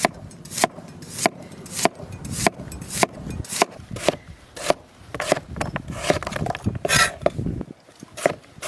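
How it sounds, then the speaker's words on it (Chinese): A knife chops radishes into strips on a cutting board in a rural kitchen, giving a steady series of sharp, close knocks about twice a second. "把萝卜全部切成条儿"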